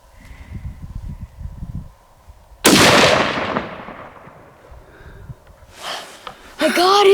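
A single loud gunshot fired while turkey hunting cracks out close and sharp, then echoes away over a couple of seconds; quiet murmuring comes before it, and voices start up just after.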